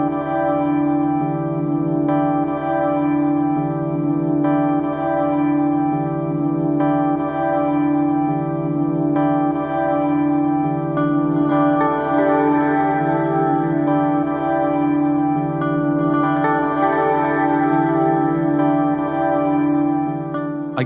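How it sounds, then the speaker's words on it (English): Sustained harmonic tones pass through a reverb effects pedal, washing into a continuous shimmering wall with long echoing tails, steady and loud for the whole stretch. "Reverb is a natural phenomena."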